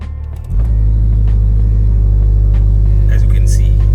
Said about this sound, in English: And then after that, you have to floor the accelerator.